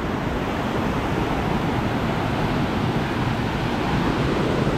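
Rough, storm-churned sea off Krabi, Thailand, the morning after a night of heavy weather, surging in a continuous loud broadband roar with wind buffeting the microphone throughout.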